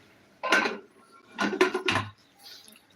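A pressure cooker lid being fitted and shut in a home kitchen, heard as three metallic clanks and scrapes close by, one short knock and then a quick double, followed by a faint rattle.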